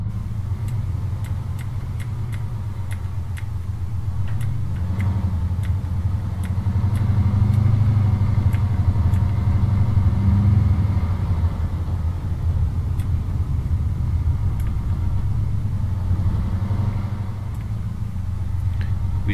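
A military vehicle drives along in a video game with a steady low engine rumble, joined by faint intermittent ticking and clicking sounds over the whole stretch.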